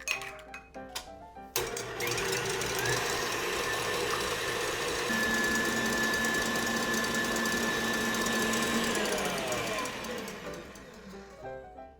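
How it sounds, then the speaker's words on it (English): Two eggs are whisked for a gluten-free, low-carb pumpkin pie filling, a loud, steady mechanical whirring that starts abruptly and runs for about eight seconds before winding down, preceded by a few clinks. "We will whisk 2 eggs."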